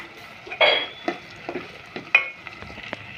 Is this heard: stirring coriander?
yes